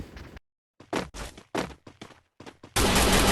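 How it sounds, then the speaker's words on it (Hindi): Gunfire bursts out in the Free Fire battle-royale game, with several short, sharp volleys separated by brief gaps, then a loud sustained burst of firing at the end, close and without talk. "फिर मैं फायरिंग सुनता हूँ बहुत, तो हमारे पीछे कोई तो होता है जो हमको मारने का ट्राई कर रहा होता है।"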